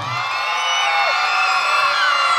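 Elementary schoolchildren at a scholarship ceremony shout and cheer together when their group is called, a sustained, bright, high-pitched chorus of young voices held steadily at close range.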